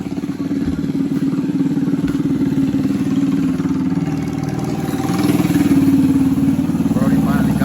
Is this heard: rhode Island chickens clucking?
no